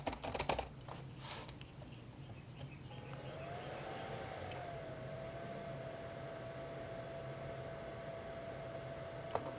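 Quick bursts of key clicks on a 2002 IBM ThinkPad R31 laptop keyboard at the start, then a steady soft hum with a thin rising tone settling into a constant whine.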